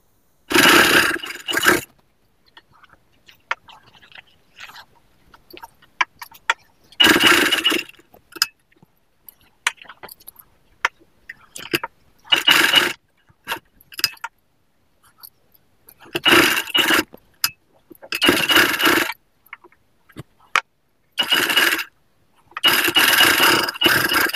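A sewing machine stitching a long gown sewn from nighty fabric runs in repeated short bursts of whirring, close by. Quiet gaps with small handling clicks and scrapes fall between the bursts.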